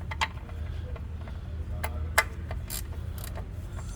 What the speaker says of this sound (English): Let me grab my ratchet.